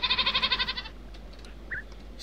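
A goat in Minecraft bleats once in a loud, wavering burst of rapid pulses, followed by quiet background with a faint short chirp.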